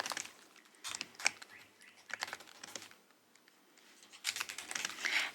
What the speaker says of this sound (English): Let me make sure I'm typing that correctly.